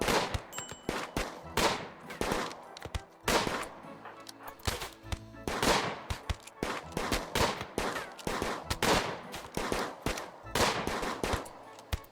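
Rapid gunfire from the colony-building video game RimWorld crackles in dense, irregular bursts of shots and machine-gun fire throughout, sustained and fairly quiet, with no talking.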